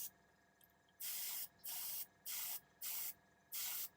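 Airbrush spraying paint onto a Warhammer Legio Vulturum Warmaster Iconoclast titan model, five short bursts of bright hiss with brief pauses between, close and alone over faint room hum.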